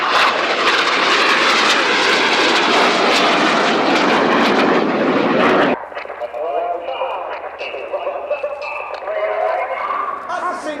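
Red Arrows jets roar loudly overhead in a synchro turn at an airshow, a dense sustained jet-engine rumble that cuts abruptly to a fainter distant drone, with a commentator's voice over the loudspeakers.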